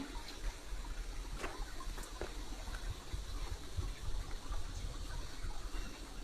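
Splashing and sloshing of feet wading through shallow water along the path up to the Jwala Narasimha Swamy temple at Ahobilam, a steady watery wash with occasional louder splashes, no talk.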